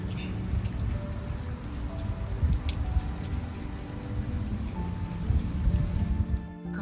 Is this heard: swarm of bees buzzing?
no